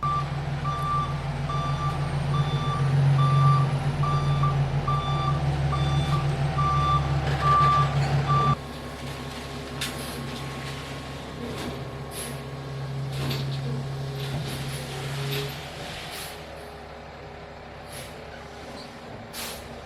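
A heavy mulch delivery truck backs up a residential driveway with a steady series of loud reversing beeps over a rumbling diesel engine, then air brakes hiss and the engine idles on.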